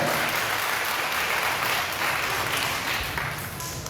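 Audience applause at a school anniversary celebration at an evangelical Baptist college in Plaisance, continuous loud clapping from a large crowd, steady throughout.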